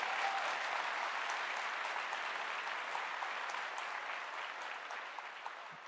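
Dense, steady applause from a live audience fills the whole stretch, a broad wash of clapping that tapers slightly toward the end, with no talk over it.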